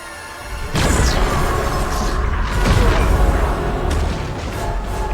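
A film-style heat-vision blast from Supergirl aimed at a villain erupts suddenly into a loud, sustained roaring burst with rumbling booms and a searing high whine layered over it, continuing to the end.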